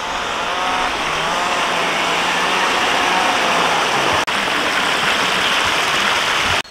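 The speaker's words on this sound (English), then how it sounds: "All of the waterfalls, lovely scenery, and the walks here" Waterfalls in Colby Woodlands near Tenby: a loud, constant rushing roar of falling water, steady and close throughout, with no voices.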